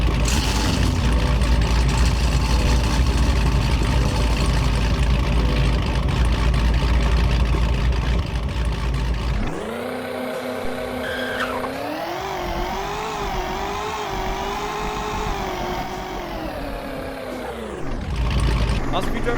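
Hennessey sports car engine in a driving video game, a revving, droning motor that rises and holds a high pitch while a voice talks at the start.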